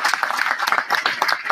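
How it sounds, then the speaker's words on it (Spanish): A short burst of steady clapping from an audience at a community gathering, applauding the organising committee; the claps are dense and even, with no speech over them. "Así que aplaudamos a la comisión"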